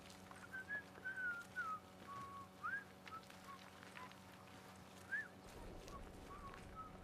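A man whistles a short, wandering tune in the video game Atomfall, quiet and somewhat distant, with brief pauses between phrases over faint ambient noise.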